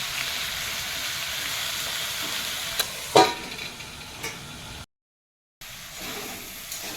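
Chicken bought at a market, probably a Boral variety, cooking with potatoes in a pot in a Sundarban kitchen; a steady close sizzle with a few sharp scraping stirs, then a brief dropout before the frying noise resumes.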